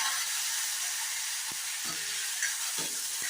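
Fennel seeds fry in hot oil in a wok, a steady bright sizzle and crackle with a few soft stirring knocks, heard up close without any talk.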